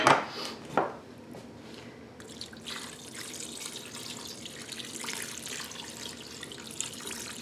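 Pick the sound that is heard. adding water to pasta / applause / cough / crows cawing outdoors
adding water to pasta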